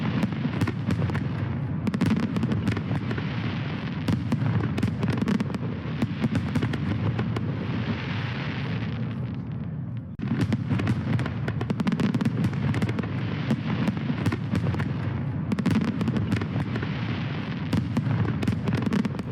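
Fireworks display at Walt Disney World at night, a dense run of booming bursts and crackles that continues almost without a break over steady crowd ambience, with a brief lull in the middle before the barrage resumes.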